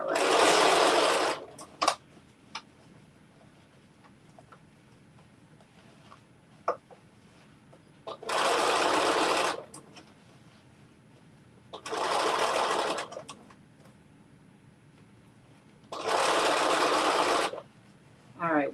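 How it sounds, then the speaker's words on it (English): A sewing machine running a straight stitch in four loud, steady whirring bursts of one to two seconds each, with quiet gaps and a few small clicks between them. "we are down to the other side, just one straight stitch"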